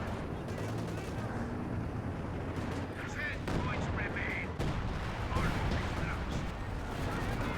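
Company of Heroes 2 battle sounds: steady gunfire and booming field-gun shots crack repeatedly through a dense, continuous wash of combat noise, while a commentator talks over it.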